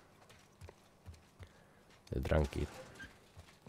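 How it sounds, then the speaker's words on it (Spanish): Horse hooves clip-clopping in The Last of Us Part II, a few soft scattered steps followed by a louder cluster of hoofbeats near the end, with a voice speaking over them. "está el caballo por ahí a su bola"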